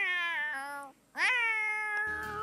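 A tabby cat in The Sims 4 gives two drawn-out, tonal meows with a short silent gap between them, close and clear with nothing else around.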